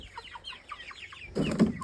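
Chicks give a run of short, evenly spaced clucks and chirps, then a louder, fuller burst of clucking near the end; no voices.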